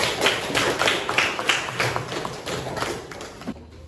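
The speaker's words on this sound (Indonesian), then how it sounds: "Tepuk tangan untuk kita semua" A classroom of students claps hands together in a short burst of uneven, distinct claps that taper off after a few seconds.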